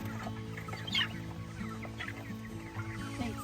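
Meat chickens in a week-five flock clucking and fowl calls scattered over a steady low hum, moderately close with a few louder calls standing out.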